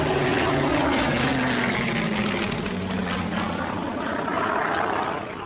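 Spitfire fighters fly in close formation, their propeller engines producing a loud, continuous droning roar with shifting tones as the aircraft pass nearby.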